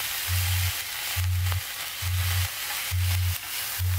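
Steady sizzling hiss of meat frying in a pan, with a low rhythmic pulsing hum repeating beneath it about once a second.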